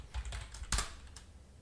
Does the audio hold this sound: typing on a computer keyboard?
yes